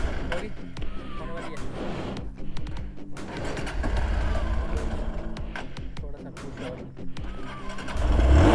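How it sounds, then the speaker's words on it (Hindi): A Hero Xpulse 200 off-road motorcycle being started repeatedly, its engine cranking and catching in rough bursts close by, with a voice talking over it throughout. "थक गया यार मैं बाइक स्टार्ट कर करके"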